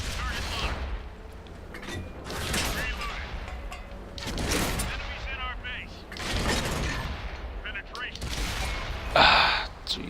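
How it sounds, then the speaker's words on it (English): Tank cannon and machine-gun fire from a Matilda in the World of Tanks video game, with repeated bursts of shots and booms under steady talk, plus one sharper loud crack near the end. "He is putting a lot of shots downrange."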